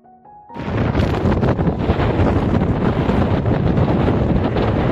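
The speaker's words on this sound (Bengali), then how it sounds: "হাওয়ার আওয়াজটা শুনতে পেলেন?" A strong cold winter wind blows outdoors in England, bursting in after a brief quieter moment into a loud, continuous roar that buffets the microphone.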